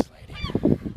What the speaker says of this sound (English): there's some geese up here ready to fuck me up